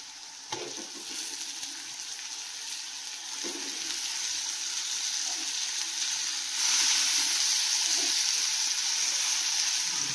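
Chopped tomatoes frying in a pan for tomato chutney: a continuous hissing sizzle that swells louder partway through, with a few faint scrapes of stirring.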